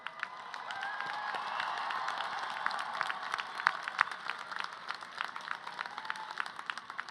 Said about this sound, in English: let's take a minute and cheer them with a big round of applause for all of that support